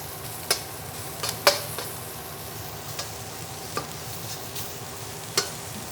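Shrimp fried rice sizzles and hisses in a wok on a ZLINE stove, with soft steady frying noise broken by scattered sharp clicks and taps of the utensil against the pan.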